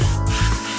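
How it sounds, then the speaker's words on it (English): A continuous close hiss of hygiene spray released from an aerosol sprayer, short and steady with no speech. "Spray yourself for approximately 3 to 5 seconds."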